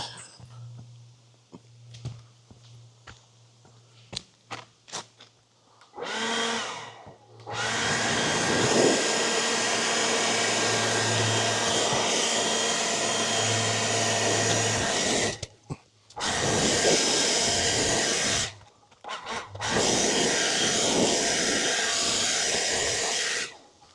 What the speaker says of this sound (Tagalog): Sabayin natin yung blower.